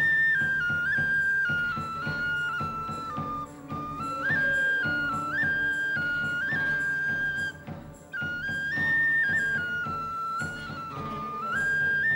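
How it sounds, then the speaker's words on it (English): A tin whistle plays a lively melody alone for the full length, close and bright, its notes moving in quick ornamented runs. "You say that you play the whistle."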